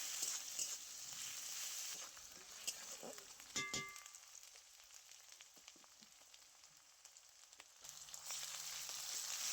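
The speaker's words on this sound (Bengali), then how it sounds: "রসুনটাও খুব ভালো করে ভাজা হয়ে গেলে তারপরে দিয়ে দিচ্ছি পরিমাণ মতো আদা বাটা" Onion, garlic and ginger paste frying in oil, a quiet, fairly distant sizzle with scattered stirring scrapes and a brief metallic clink early on, the frying dipping softer in the middle before swelling again.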